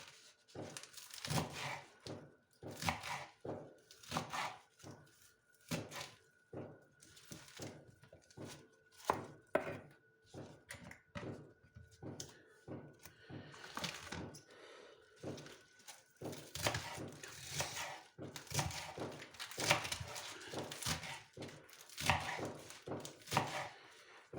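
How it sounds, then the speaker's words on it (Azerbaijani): Lettuce being chopped with a knife for a salad, a long run of close, crisp chopping strokes in quick bursts with short pauses between them, with no talk. "Kahımızı da belə doğrayırıq"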